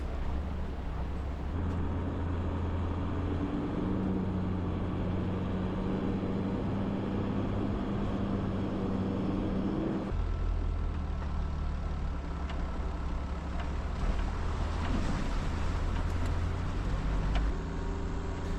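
A 4WD vehicle crawls through a rocky river crossing on the Caledonia River Track in Victoria's high country, its engine a steady close drone with low rumbling and bumps from the rocks throughout.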